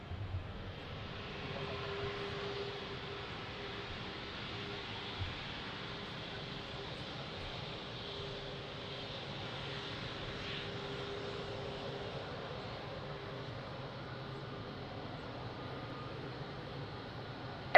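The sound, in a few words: aircraft taking off from runway 02 at Lisbon Airport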